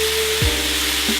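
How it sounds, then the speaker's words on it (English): Steak-seasoned meat stir-frying in a pan gives a loud, dense, continuous sizzle close by, with a couple of faint scraping movements and no speech. "you just want to kind of let it stir fry"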